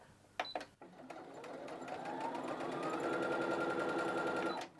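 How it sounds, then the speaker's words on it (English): A sewing machine stitches the ends of a fabric scarf, a couple of clicks before it runs up to a steady close whirring hum that holds for several seconds and stops. "So I'm going to do a little bit of sewing, finish it off so it's nice and secure and leave a gap"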